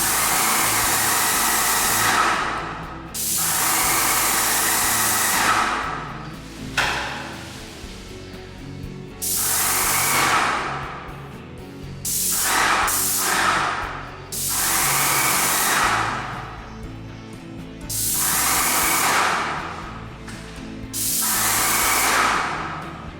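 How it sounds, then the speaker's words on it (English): An airless paint sprayer coats a garage with paint, giving a steady loud hiss in repeated passes of a few seconds each, separated by short breaks as the trigger is released. "I'm going to be using an airless sprayer for the first time to paint the garage"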